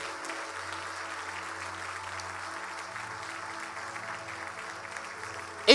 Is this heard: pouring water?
no